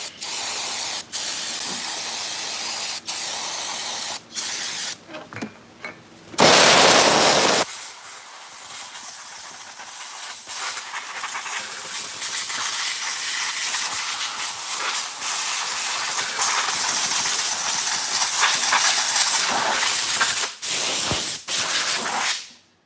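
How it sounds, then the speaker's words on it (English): Carburetor cleaner sprayed onto a Stihl BG 50/BG 86 handheld blower: a loud continuous hissing spray in long bursts with short pauses and one especially harsh blast, very close and without talk. "Blast her with some carb cleaner."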